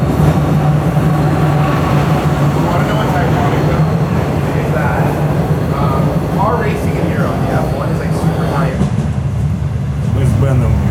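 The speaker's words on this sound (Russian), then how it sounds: "Мы с Беном едем в Пилар на настоящей электричке." Riding an electric commuter train to Pilar, Argentina: a loud, steady rumble and hum of the carriage in motion fills the whole stretch, with faint squeals and clatter over it and people talking throughout.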